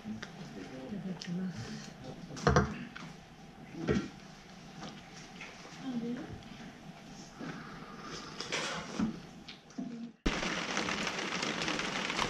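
Heavy rain in a mountain storm on Iōdake in the Yatsugatake range: a steady wash of rainfall with scattered knocks and rustles close by, rising sharply to a louder, denser downpour near the end.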